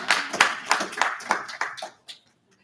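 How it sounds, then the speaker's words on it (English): An audience at a university student government meeting claps for about two seconds, a burst of many hands that fades out quickly with a little murmuring mixed in. "Love the clapping, guys."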